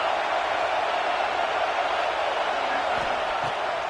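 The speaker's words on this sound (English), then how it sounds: "The Buckeye crowd alive on 3rd down." A packed Ohio State stadium crowd roars during a third-down play in a college football video game, a dense, steady wall of cheering that holds at full level for the whole stretch.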